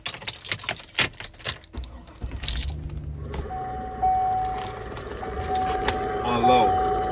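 A failing blower motor in a Chevy Suburban whirs steadily at reduced speed after some clicking and rattling of keys and controls, with a faint whine rising near the end.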